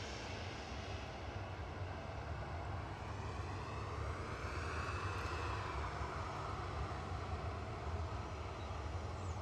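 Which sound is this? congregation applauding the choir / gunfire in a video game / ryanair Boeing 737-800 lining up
ryanair Boeing 737-800 lining up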